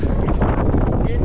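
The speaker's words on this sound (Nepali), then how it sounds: "अब यो टेन्ट चाहिँ यत्रो खतरा हावा चल्दैछ यहाँनिर" A strong wind blasts against a camping tent, producing a loud, continuous, close roar that buffets the microphone.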